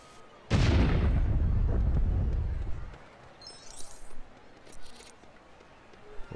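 A TNT charge goes off in Lego City Undercover with one sudden loud blast that rumbles for about two seconds and fades, followed by faint scattered debris and clatter.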